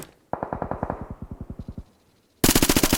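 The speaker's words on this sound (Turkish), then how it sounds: "Birbirlerini sıkıyorlar." Automatic gunfire in the video game PUBG, a rapid burst of about eighteen shots that slows and fades with echo, then after a short silence a second louder, denser burst begins.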